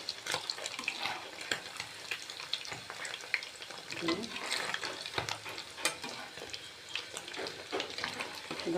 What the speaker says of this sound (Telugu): ఇప్పుడు సోయా చాప్ని ఇలా ఫ్రై చేసుకోవాలి మంచిగా, గోల్డెన్ బ్రౌన్ వచ్చే వరకు